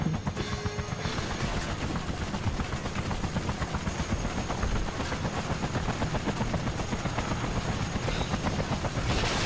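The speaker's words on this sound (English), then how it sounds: "Fighting a helicopter right now. A dog fighting a helicopter." Helicopter battle in Disney's Bolt video game, with a dense, steady roar of rotor thrum and rapid machine-gun fire filling the scene loudly and continuously.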